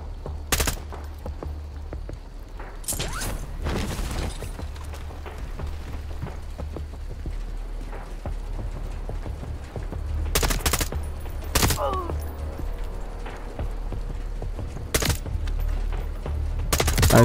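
Burst-fire gun in Modern Warfare 3 gameplay, heard as repeated sharp volleys spread across the stretch over a continuous bed of battle noise and ambience, loud and close.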